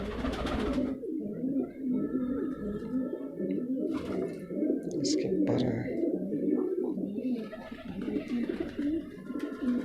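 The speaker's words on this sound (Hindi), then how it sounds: "देख के दिल खुश हो जाता है इसे गुटकता हुआ जब देख लूँ तो" A Rampuri pigeon coos continuously close by in a low, rolling burble, and someone speaks briefly over it.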